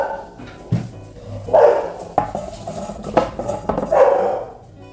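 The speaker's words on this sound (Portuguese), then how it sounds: "E a cachorrada continua latindo" Several dogs bark in repeated bursts at moderate distance, over a backdrop of scraping and clattering from nearby painting work, with no clear talk.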